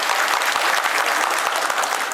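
A crowd at a political handloom weavers' event gives loud, dense applause for the health minister, continuous close clapping from many hands with a faint murmur beneath.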